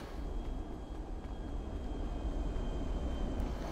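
A helicopter lifts off in the video game GTA 5, its steady low rotor and engine rumble holding at an even level throughout with no talk.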